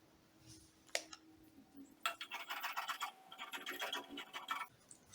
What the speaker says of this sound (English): I'll cut out a long strap of fabric